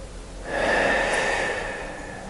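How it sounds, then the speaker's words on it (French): One deep, forceful inhalation through the nose in Wim Hof style breathing, a close, rushing breath that swells and then fades over about two seconds. "Inspirez."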